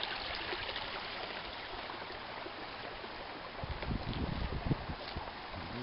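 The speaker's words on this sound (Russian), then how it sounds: "По этой протоке пошла. Такой ручей образовался." Small stream flowing from risen river water in a newly formed side channel, a steady broadband rush that grows louder and more turbulent toward the end, with no voices.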